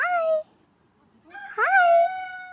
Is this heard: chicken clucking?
yes